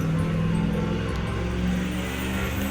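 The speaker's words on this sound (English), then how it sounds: "Cars are just super loud outside." Cars pass on the street outside as a continuous low traffic rumble, heard from indoors. It stays steady and fairly loud, with no distinct single pass.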